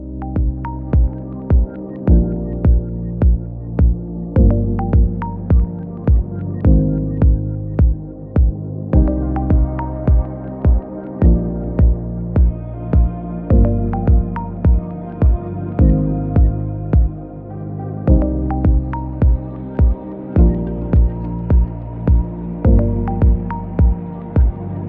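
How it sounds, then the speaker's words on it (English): Black & Decker electric citrus juicer squeezing lemons, a loud low motor hum that throbs in a regular pulsing rhythm, the reamer's drone starting and reversing in repeated cycles with faint squeaks and clicks on top. "which is another reason why I really like this Black & Decker juicer"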